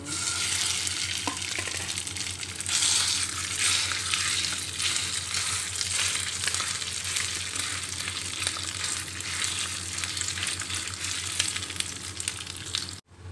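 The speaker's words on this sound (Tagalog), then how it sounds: "ilalagay na po natin yung ating giniling" Ground pork or meat sizzles loudly in a pan with browned garlic, a dense continuous frying hiss with occasional stirring scrapes, close and alone.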